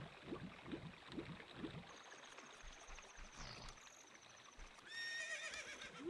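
Epona, the horse in Ocarina of Time, gives a game neigh with a string of rapid, fairly faint snorting pulses, followed by quieter game chimes and a swishing effect.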